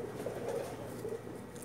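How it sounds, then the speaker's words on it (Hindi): Soft, low pigeon coos repeat a few times nearby from a rooftop pigeon loft over a murmuring background, brief and gentle. "देखो ये क्या कबूतर है"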